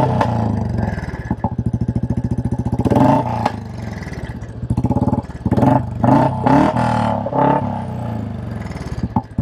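Royal Enfield Classic 350 motorcycle fitted with a modified exhaust pipe, cam, FuelX and filter, ridden with a loud thumping single-cylinder exhaust note that rises and falls through repeated throttle blips and gear changes, close up throughout.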